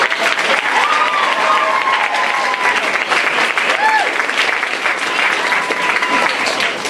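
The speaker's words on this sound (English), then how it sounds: "we'd like to give him a round of applause" A crowd applauds steadily and fairly loudly for several seconds, with a few voices calling out over the clapping.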